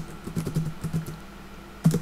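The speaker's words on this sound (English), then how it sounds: "Type in the name of the program." Keys clatter on a computer keyboard as a program name is typed into Linux Mint 14's startup application settings: a short, close burst of quick clicks in two clusters, fairly quiet and with no voices.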